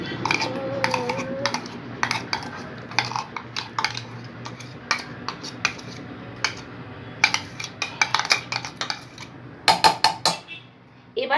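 Ground paste being poured and mixed into raw banana in a bowl for kofta curry, with repeated clinks and taps of a spoon against the bowl, irregular and close, growing busier and louder toward the end.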